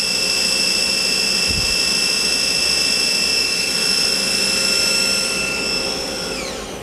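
A Star SV-32J CNC Swiss-type lathe's main spindle runs at high RPM, a steady loud whine with bright high-pitched tones holding throughout, then winding down in pitch at the very end.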